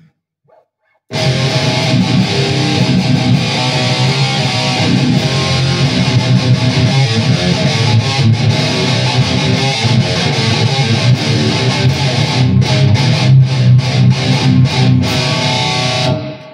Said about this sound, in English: I've got 4 different distortion pedals on the board at the moment.